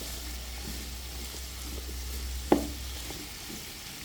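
Baby corn stir-frying for chow mein in a hot pan, a soft steady sizzle with a few light stirring taps and one sharper clack, faint and close, no talking.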